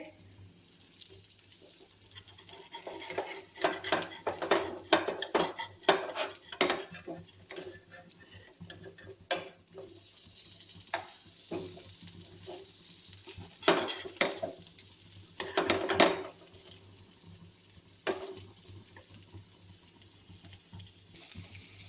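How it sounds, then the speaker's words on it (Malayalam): Fish pieces fry in oil in a pan with a soft, steady sizzle, broken by bursts of scraping and clinking as they are stirred and turned over. "അപ്പം നമ്മുടെ മീൻ മൂത്ത് കേട്ടോ തിരിച്ചിടാവേ"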